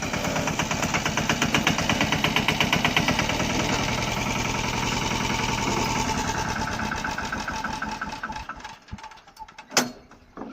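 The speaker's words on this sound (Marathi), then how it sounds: "ट्रॅक्टर मागे गेलो आहोत दगड खाली करण्यासाठी" A tractor engine chugs in a steady rhythmic idle up close while reversing in a field to unload stones, gradually quieting before a few clanks and knocks near the end.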